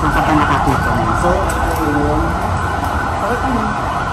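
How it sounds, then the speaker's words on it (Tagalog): An ambulance siren wails with a rising and falling pitch as it passes along a busy street in the Philippines, outside a university campus, loud and continuous over traffic noise, with voices talking underneath. "kung narinig nyo yung ambulance"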